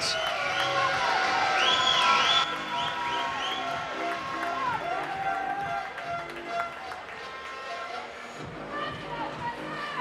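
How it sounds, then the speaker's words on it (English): A crowd at a university short course swimming championships final in an indoor pool cheers and whoops loudly, strongest at the start, then settles into a sustained murmur with an announcer's voice over the pool hall. "And the crowd here cannot wait."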